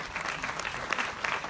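An audience at a French municipal ceremony for graduating students applauds warmly, a brisk, continuous patter of many hands at moderate level with scattered sharper claps.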